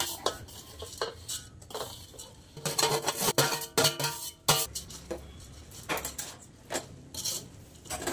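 Boondi being stirred in a pan for boondi ladoo, with repeated scraping and clinking of a metal spoon against the pan in an irregular rhythm, close up, with no talking.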